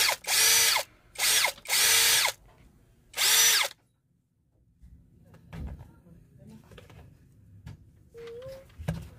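Impact drill powered by a 21V battery pack, four short loud bursts of high whining motor close by, then quiet handling noises and someone talking.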